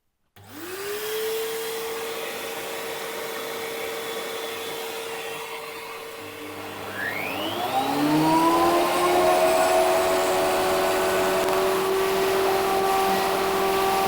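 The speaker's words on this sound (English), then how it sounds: "we just need to run it through the planer again" A wood planer spins up with a rising whine and runs a glued elm board through, a steady loud drone that deepens and thickens as the cutter bites into the wood, close by with no talk.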